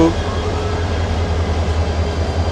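The Upaban Express sits at a station platform on the Dhaka to Sylhet route, giving off a steady low engine rumble and drone, loud and constant, with a general station bustle around it.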